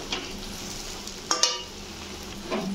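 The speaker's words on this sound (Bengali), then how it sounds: "হলুদ দিয়ে আর একটু ভাজা ভাজা করে নেব।" Turmeric fries with pieces of mukhi kachu (taro) in a pan, a quiet steady sizzle with a few sharper scrapes and clinks of stirring, no talking.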